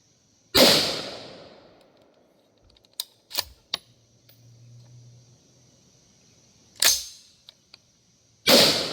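Three sharp, loud AR-15 rifle shots ring out alone, two of them near the end, with a few small metallic clicks from the rifle's action in the pause between them.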